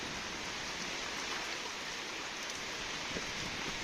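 Steady rainfall during a storm, a soft even wash of drops on surfaces, fairly faint and constant with no voices.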